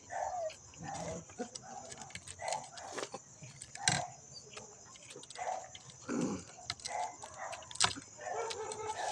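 Dogs bark at night at people passing by, a scatter of yips and barks from more than one dog at some distance, coming in irregular bursts over a constant high insect-like hum, with some faint voices in the background.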